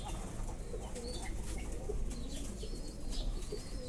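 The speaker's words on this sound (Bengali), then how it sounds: "তার উপরে কবুতর," Pigeons nesting on a palm tree coo softly and repeatedly outdoors, their calls partly blurred by steady background hiss and ambient noise.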